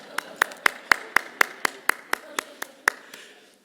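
A pair of hands clapping at a front door, about a dozen sharp, evenly spaced claps in a steady rhythm, close and clear with nothing else around them.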